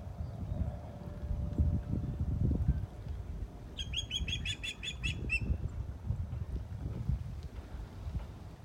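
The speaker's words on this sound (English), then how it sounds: "Beautiful birds, the ospreys." Ospreys on a beach give a short run of high chirping calls midway, heard over constant low wind rumble and a faint flutter of wings.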